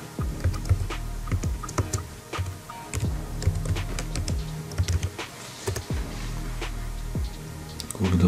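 Rapid typing on a computer keyboard, a quick irregular run of close, crisp key clicks with short pauses between bursts.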